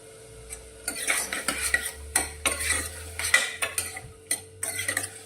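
A spoon clatters and scrapes repeatedly against a metal pot, stirring green cowpeas with salt and turmeric in uneven bursts over a low steady hum.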